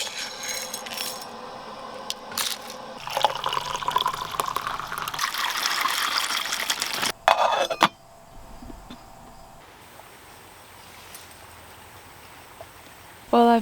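River water flowing steadily in a north woods setting, a soft continuous wash that swells louder through the middle stretch, with brief knocks and splashes near the end.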